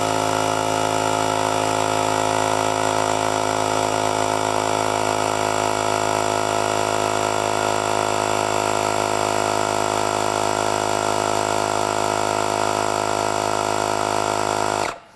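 A Craftsman V20 cordless tire inflator, model CMCE521B, runs steadily and loudly at close range with a constant mechanical drone and buzz for about fifteen seconds, then cuts off abruptly at the end.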